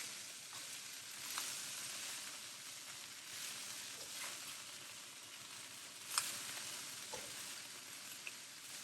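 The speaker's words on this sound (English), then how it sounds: "A lot of sizzling going on, there's a bit of moisture there." Vegetables including broccoli sizzle and crackle steadily in a hot frying pan, a soft continuous hiss broken by occasional small pops.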